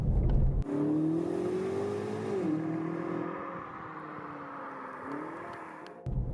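A BMW M8 Competition with 625 hp accelerates hard, its engine note climbing steadily through a long pull with a brief dip at a gear change, loud and continuous with no talk.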